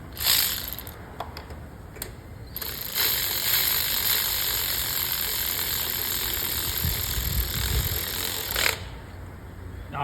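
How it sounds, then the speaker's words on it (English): A ratchet works the spark plugs in the engine of a 2009-2014 Acura TSX, giving a fast mechanical clicking with a few sharp clacks and a steady background hum. "Make sure they're all started before I start ratcheting them in."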